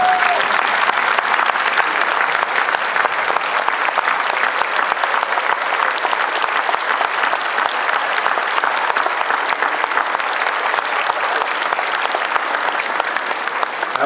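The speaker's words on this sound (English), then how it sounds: "Please stand and join me in giving them a heartfelt round of applause." Sustained applause from a graduation ceremony audience at a university campus in Nashville, a large crowd clapping steadily and loudly throughout with no break, filling the hall from start to finish.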